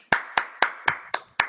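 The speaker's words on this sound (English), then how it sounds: "Okay, you can unmute and applaud now." Six crisp, evenly spaced claps from a single person on a Zoom call, close and distinct, each sharp hit fading quickly before the next.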